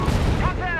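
Mortar bombs and incendiary mortar rounds from a mortar half-track in Company of Heroes 3, a dense run of booming blasts close together with a ringing tail, loud and continuous.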